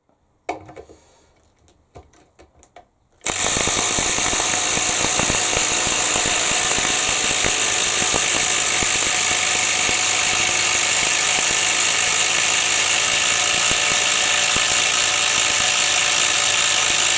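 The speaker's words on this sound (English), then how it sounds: "the Bosch is driving the screw right next to where the Makita one just went" Bosch and Makita impact drivers driving screws side by side, a few brief clicks and bursts at first, then a sudden loud, continuous rattling hammer that runs steadily to the end without voices.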